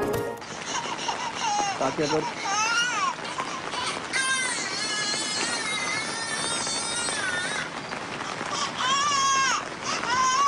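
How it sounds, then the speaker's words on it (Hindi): A recorded baby's crying is played from a spot under a small shed during a night-time ghost hunt: wavering, wailing infant cries rise and fall repeatedly, with people talking over them. "तो मैंने बच्चे की और रोने की आवाज़ लगाई है"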